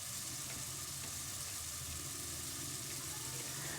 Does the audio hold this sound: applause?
no